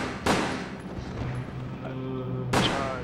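Two loud gunshots in the PS2 game Resident Evil Dead Aim, sharp booming blasts about two seconds apart, each trailing into a short rumbling decay over a steady game background.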